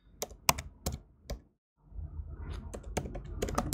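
Someone types on a computer keyboard in a few short runs, with separate crisp key clicks at first, then a brief pause followed by a steadier, denser patter of keystrokes, close and clear.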